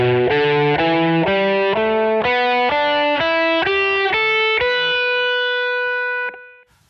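Distorted electric guitar running a major pentatonic scale shape from its lowest to highest note, single picked notes stepping steadily upward at an even pace, loud and alone, the last note ringing out.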